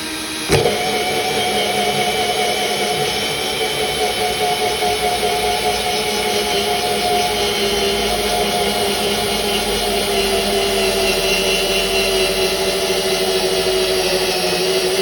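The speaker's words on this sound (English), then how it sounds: "So we're just going to start drilling." A hole saw bores through a plastic rain barrel with a steady, loud whirring drone that holds unbroken for the whole stretch. A brief sharp click comes just before it settles in.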